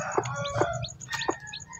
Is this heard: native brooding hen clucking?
yes